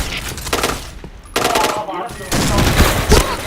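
Rapid automatic gunfire in the shooter game Point Blank, loud bursts of overlapping shots in several volleys with short gaps between them.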